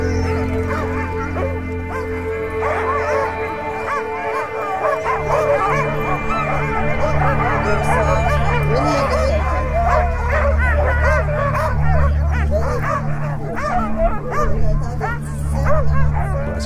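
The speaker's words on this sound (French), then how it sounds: "tous les chiens, là, ils ont hâte de partir, ça jappe, ça hurle." Sled dogs at a race start line barking, yipping, whimpering and howling together in a loud, continuous chorus that builds and never lets up.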